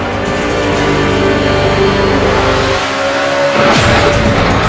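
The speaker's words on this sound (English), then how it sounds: "Oh no! Elliott Sadler into the wall." A NASCAR stock car in the 2012 Nationwide Series loses grip and hits the wall on the final lap. It is a loud, continuous roar of racing engines with a sharp shift in the noise near the end, and no talk is heard.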